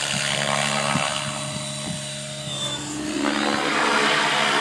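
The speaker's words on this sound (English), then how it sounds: "They want to see the helicopter." An AleeS RC Rush 750 radio-controlled helicopter flying, its rotor producing a steady buzzing whine with pulsing harmonics that swell and shift in pitch as it moves, loud and close with no talk.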